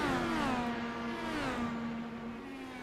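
IndyCar race cars in the iRacing sim at Long Beach drafting down the front straight, a loud sustained engine whine at high revs with steady pitch sliding slightly, close and continuous without talk.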